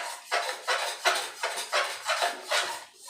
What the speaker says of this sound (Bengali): নাড়াতে হবে কিন্তু অনবরত